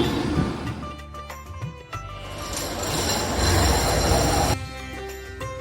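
A train rumbles nearby at Thane East railway station, with a loud rolling roar of wheels on rails, metallic clanks and faint squeals before it eases off.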